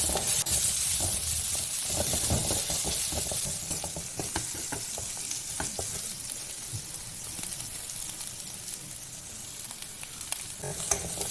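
Sliced onions fry lightly in a pan, giving a steady, close sizzle with crackles and occasional stirring scrapes, continuous throughout with no voices.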